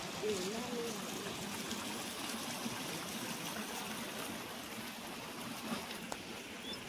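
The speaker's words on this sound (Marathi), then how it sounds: "पाण्याचा आता खळखळत आवाज पण येतोय" A shallow stream runs low beneath a village bridge in Konkan, its water gurgling in a steady, continuous wash, with faint voices in the background.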